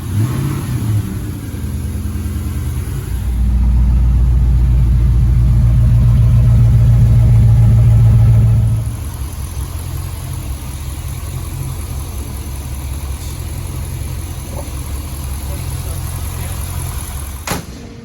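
A car engine with blown mufflers cranks on the starter, catches and revs loudly for several seconds with a deep, rough exhaust burble, then drops back to a steady, loping idle close to the microphone.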